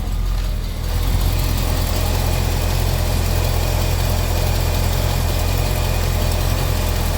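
A Cadillac engine dragging on a weak battery, a loud, steady low-pitched rumble and vibration that swells after a brief quieter start and holds evenly, with no talking.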